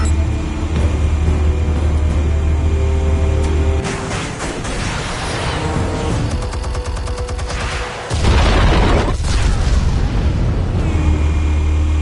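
In Batman: The Telltale Series, armed explosives go off in loud booming blasts with crackling bursts and rumbling debris, the heavy noise briefly dropping away before another big detonation.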